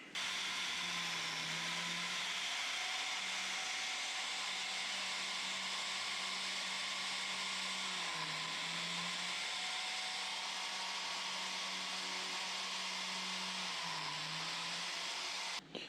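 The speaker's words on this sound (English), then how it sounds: "our biscuit jointer here, which basically has got a little saw blade in there which spins around and cuts out a little groove" An electric biscuit jointer whines steadily and close while its small spinning blade cuts grooves into old redgum, the motor pitch dipping briefly twice under load.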